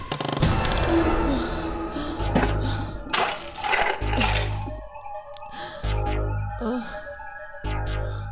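A metal key drops and clatters on a hard floor in a tense horror drama scene, with a few sharp metallic jingles standing out over a loud, dense music score.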